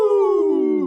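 Players voice a spooky howling "woo" cheer, a single drawn-out, loud vocal wail that slides slowly downward in pitch, imitating a ghost or wolf howl.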